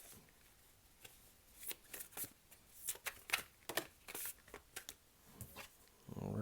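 Tarot cards being shuffled by hand: a quick run of crisp riffling flutters and soft slaps, close and fairly quiet, ending with a brief rustle.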